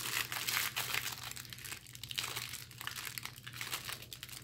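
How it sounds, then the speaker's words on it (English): Cellophane wrapping on a Double Masters card box crinkles and crackles as it is pulled open, with continuous close rustling and small sharp crunches throughout. "If our cellophane wants to open."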